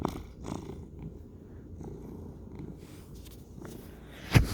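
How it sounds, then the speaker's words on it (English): A pet cat purrs softly and steadily at close range, a low continuous rumble that rises and falls with each breath, fairly quiet, ending in a brief louder bump. "are you purring, huh?"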